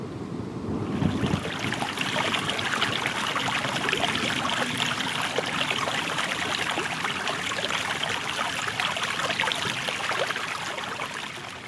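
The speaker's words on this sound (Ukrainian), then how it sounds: "звук водички в річці." A steady, full rush of flowing water, like a river stream, running continuously and fairly loud with no voices.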